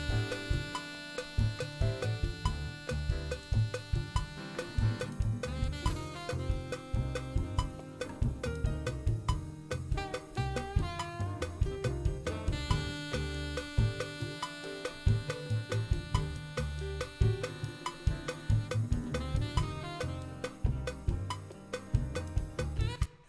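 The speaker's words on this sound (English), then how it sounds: "And listen to our saxophone." Sustained saxophone melody playing over a full backing band with steady drums and bass, continuous and fairly loud throughout.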